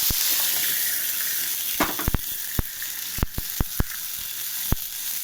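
Mustard seeds and tomato fry in a pan with a steady broad sizzle, broken by a handful of sharp scraping knocks from stirring, while water is poured in.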